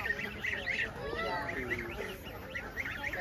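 Chicks and chickens at a kindergarten mini zoo peep and chirp in short high bursts, close and steady, with children talking and calling nearby throughout.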